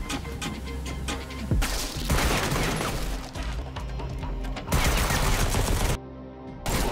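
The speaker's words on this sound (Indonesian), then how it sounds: "Baku tembak berlanjut hingga ke daratan." An action-film shootout moves from a boat onto land, with dense, chaotic bursts of gunfire and impacts filling the scene, broken by abrupt cuts and brief quieter stretches.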